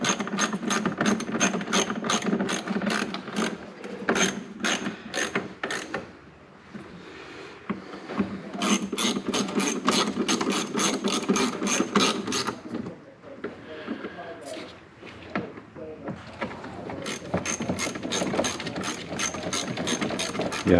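A ratchet clicks rapidly in repeated bursts, loud and close, as it removes the bolts holding a van's fan motor in place, with pauses between strokes and people talking at times.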